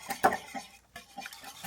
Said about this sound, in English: And you just gonna mix that batter up.